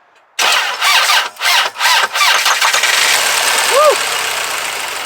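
A 90's Toyota Camry engine cranks and fires after being driven about two miles with almost no oil, then settles into a steady idle. Excited voices call out over the engine as it catches.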